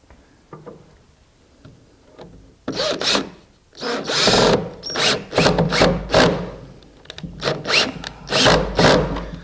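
Bursts of a power drill whirring and grinding as it drives a screw into wood while building a pie safe, with scraping and knocking of wood between runs, close and loud.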